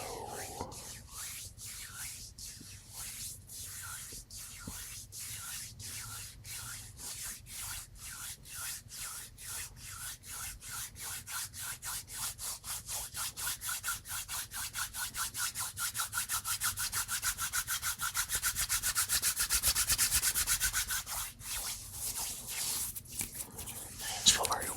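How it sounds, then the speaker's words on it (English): Bare hands rubbed together, starting with slow separate strokes and building to a fast, continuous dry swishing friction, close and intimate, with no talking over it. "Is just the hand rubbing."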